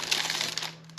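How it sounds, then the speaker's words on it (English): Protective plastic film peeled off an Arrma Granite 4x4 RC car body, a short close crinkling rustle lasting about a second over a faint steady hum. "plastic peel."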